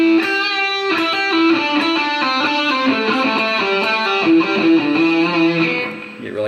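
Overdriven electric guitar rips through a fast legato run, only about every other note picked while hammer-ons and pull-offs carry the rest, a continuous flowing stream of notes played up close and loud with no voices.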